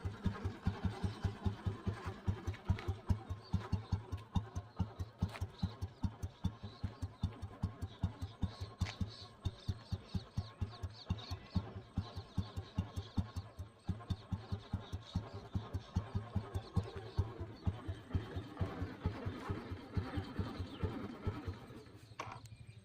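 An old blue Royal Enfield Bullet Deluxe with self start idles steadily, its engine thumping in a loud, even rhythm of close beats throughout.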